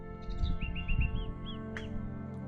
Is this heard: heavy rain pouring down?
no